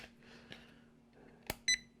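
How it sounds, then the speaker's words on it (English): A few faint clicks, then a short bright electronic beep from a six-channel RC transmitter nearby in a quiet room. "Haha, it beeps."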